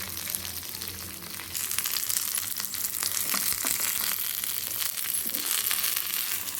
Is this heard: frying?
yes